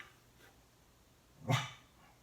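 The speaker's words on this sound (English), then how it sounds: "Oh, actually, actually, I just heard another dog barking." A single short dog bark sounds from outside at a distance, moderately loud against a quiet background.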